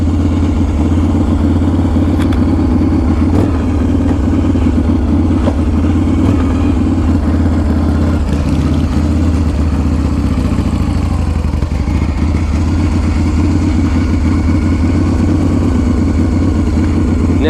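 A custom-built 2016 motorcycle with a dry clutch runs on choke, a loud close steady idle with a low throbbing rumble and a continuous rattling, chattering clatter layered over the engine.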